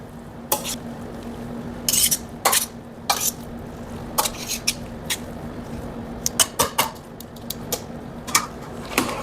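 Glass noodles for japchae being tossed and mixed, probably in a bowl, giving irregular soft clicks and scrapes of utensils against the dish, close up and moderately quiet, with no voices.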